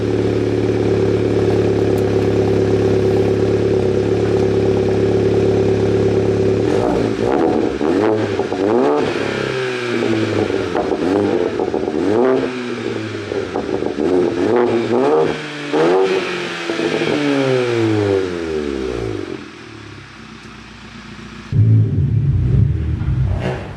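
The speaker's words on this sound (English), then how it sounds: "So let's start her up and see what she sounds like." Audi S1 hot hatch with an aftermarket exhaust, crash-damaged: a steady idle drone, then loud repeated revs that swell and drop in sweeping waves before settling back to idle, with one final blip near the end.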